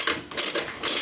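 A ratchet tightens a single screw on a Honda Transalp XRV 650/750 chain slider, two short bursts of rapid clicking close up, loud and crisp, with no talk.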